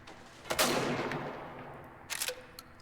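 A weapon with only two rounds per magazine fires in the sci-fi shooter Angels Fall First, loaded with incendiary rounds: one sharp, loud shot with a ringing tail, then a second shorter burst about a second and a half later.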